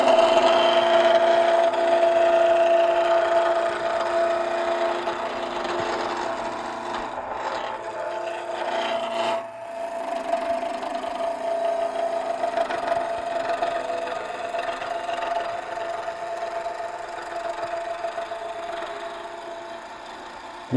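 A wood lathe turns a workpiece on a mini or midi lathe while a roughing gouge takes the corners off, giving a continuous scraping, rasping rub with a brief dip midway, steady and close.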